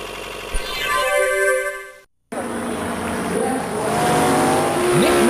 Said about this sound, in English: Look, the car is still running.